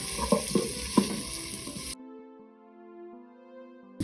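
Onions sizzle and crackle steadily in oil in an electric pressure cooker on saute, with a few clattering stirs, then cut abruptly to quieter tonal background for the rest.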